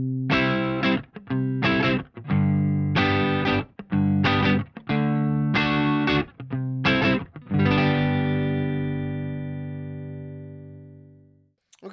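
A PRS NF3 electric guitar on its neck pickup plays a run of chords and notes with a thick, meaty tone, ending on a chord left ringing and slowly decaying to silence.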